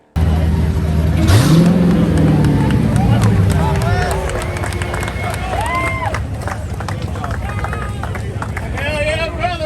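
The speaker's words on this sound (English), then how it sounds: "They both left hard, but Weston Chaplin pulled out in front and was able to take the win." Race cars launch hard and rip past at a drag strip during a Detroit speed week event, with loud engine roar and revving that fades as they pull away, while a crowd murmurs and a voice talks over it.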